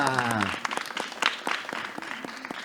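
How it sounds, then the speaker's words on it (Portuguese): A small audience applauds a production member at a poetry podcast recording, with close, scattered clapping that starts as a voice finishes speaking and continues under more talk. "Um aplauso para Mônica"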